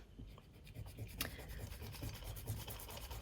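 A pencil eraser rubs sketch marks off paper during the drawing of a cartoon kangaroo, a soft, steady, close scrubbing rasp with small irregular strokes and no talking.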